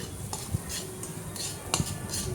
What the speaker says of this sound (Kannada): ಅದರಲ್ಲಿ ಒಂದು ಬಾಟ್ಲು ರವೆ ಹಾಕ್ಕೊಂಡು ಚೆನ್ನಾಗಿ ಅದನ್ನು ಹುರ್ಕೋಬೇಕು.